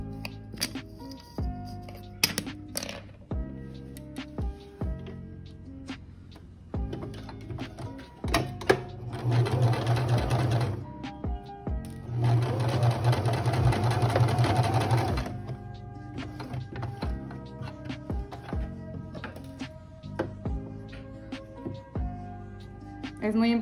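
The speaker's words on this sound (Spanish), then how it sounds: "Sobre esta línea vamos a coser." A domestic sewing machine stitches a diagonal line across fabric in two long runs of steady whirring. Short starts, clicks and handling noises come between the runs, with someone talking in Spanish through much of it.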